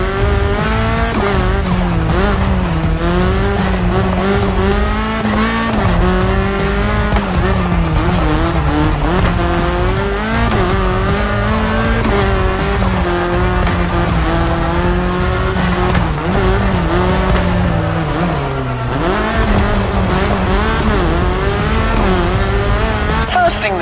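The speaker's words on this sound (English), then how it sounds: "the Audi S1 EKS RX Quattro, a 600 HP four-wheel drive" An Audi S1 EKS RX Quattro, a 600 HP four-wheel-drive off-road car in The Crew Motorfest, roars steadily down a mountain descent, its engine note rising and falling with gear changes, loud and close throughout with tire noise underneath.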